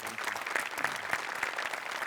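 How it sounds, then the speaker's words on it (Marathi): Studio audience of a Marathi comedy show clapping, a brief dense burst of applause at moderate level with no speech over it. "तुझ्यासाठी एकदा स्पेशल टाळ्या"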